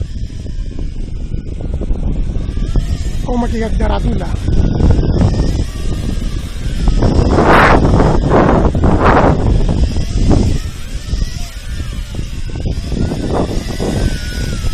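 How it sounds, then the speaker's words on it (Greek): Strong gusty wind outdoors during a Tarantula X6 drone flight, buffeting the microphone in rumbling surges while someone talks over it. "Δυστυχώς ο αέρας είναι πάρα πολύ δυνατός."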